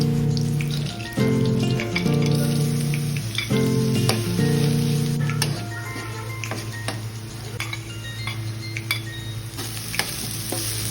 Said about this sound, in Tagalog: Naglagay nga lang siya dyan ng konting mantika. Tapos, igigisa niya na ang luya,